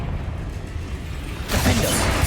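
Confringo blasting spell cast in Hogwarts Legacy, a sudden fiery burst that erupts after a steady low background hum, loud and bright, then lingers as crackling noise.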